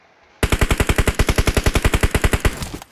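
Sustained automatic gunfire in PUBG Mobile, a rapid loud burst of about twenty evenly spaced shots over roughly two seconds, close and clear with no voices.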